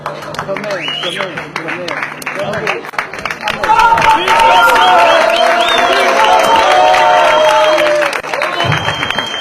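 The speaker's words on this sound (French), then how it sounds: "Applaudissez-les s'il vous plaît" Audience applause and cheering swell midway through, loud and sustained for several seconds, a large crowd clapping together amid a hubbub at a public ceremony, with talk at the start and under the noise.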